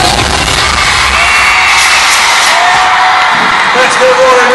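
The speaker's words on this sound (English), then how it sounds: "Let's give a round of applause once again for our dance." Loud crowd at a school dance-off competition cheering, whooping and yelling continuously in a big, reverberant space, with steady roar and occasional shouts rising above the din.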